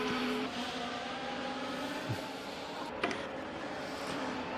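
Race car engine in a sim racing game as the car enters the pits, a steady low engine drone with faint tonal whine and a couple of brief clicks, moderately quiet, no talk.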